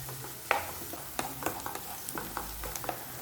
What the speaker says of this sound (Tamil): வெங்காயத்தை நல்லா செவக்க வதக்கிக்கோங்க.